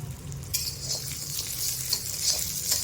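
Urad dal roasting in a pan, stirred with a spoon, giving a soft continuous dry rustle and sizzle with a few light scraping knocks against the metal.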